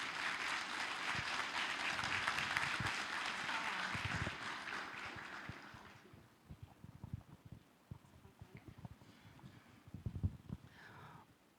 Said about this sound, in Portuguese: senhoras e senhores, com uma salva de palmas,